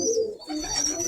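A Birmingham roller pigeon gives a soft, close coo that lasts about a second and is heard alone.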